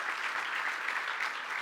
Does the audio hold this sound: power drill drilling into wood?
no